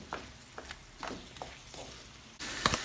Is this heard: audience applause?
no